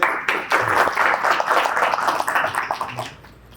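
Audience at a Hindi spiritual gathering clapping steadily for several seconds, a dense patter of hands that thins and fades toward the end, with no voices over it.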